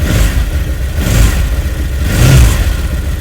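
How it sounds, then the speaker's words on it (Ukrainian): A deep, bassy V-twin engine of an Odes ML 850 cc ATV revs up in three quick bursts, each rise in pitch falling back to a rumbling idle. "Сам звук двигуна."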